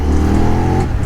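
A KTM 1390 Super Duke R motorcycle engine pulls hard under acceleration, a loud, continuous low rumble with rising harmonics heard close up, no talk.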